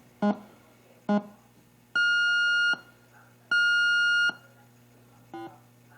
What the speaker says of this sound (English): in test mode, it just beeped